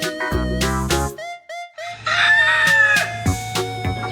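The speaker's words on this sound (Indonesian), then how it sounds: "Ini adalah ayam jantan." A rooster crows over a farmyard scene, its long cock-a-doodle-doo calls loud and near, with shorter clucks and other fowl sounds breaking in and out across a few seconds.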